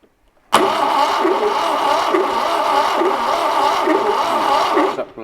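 A 1968 Fiat 500 engine, not started in 40 years, cranks and catches abruptly, then runs steadily with a rough, pulsing idle, close and loud, before cutting off at the end.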